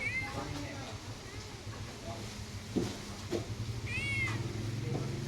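Two cats with a broken leg, one with a protruding bone, meow in a high, drawn-out way, twice and clearly, while people talk steadily in the background.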